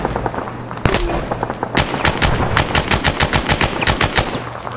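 Rapid automatic gunfire from Arma 3 Combined Arms, a loud, dense stream of shots after an opening crack, continuing in quick bursts without pause.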